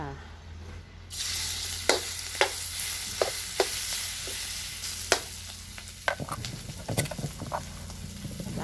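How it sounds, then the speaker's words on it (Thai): Pounded jaew bong chili paste is stir-fried in a little oil. A spatula knocks against the pan in sharp, spaced taps, then a louder sizzle and busier scraping build up near the end. "ใส่น้ำมันนิดเดียวนะคะ เพราะจะได้เอานี้ลงไปผัดเนาะค่ะ"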